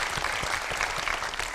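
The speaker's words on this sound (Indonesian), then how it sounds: "tepuk tangan" Studio audience applauding on an Indonesian political TV show, a dense, steady wash of clapping that holds at full level throughout with no speech over it.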